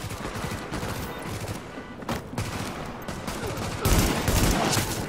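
Gunfire in the Tom Clancy's The Division shooter video game, with rapid bursts of shots and a heavier volley near the end over busy game ambience.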